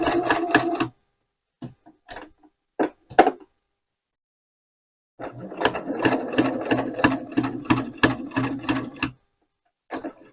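A sewing machine stitches the curved seam of a pouch in short bursts, several brief runs followed by one longer steady stretch of rapid needle clatter, close and clear.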